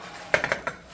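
Muffin pan handled after baking, with a few quick metallic clinks and clatters close by, about four separate knocks in under a second, fairly quiet and without speech.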